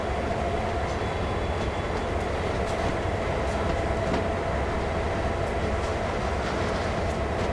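A train in Train Sim World rumbles steadily with a constant low drone and faint rhythmic clatter, loud and continuous throughout without speech.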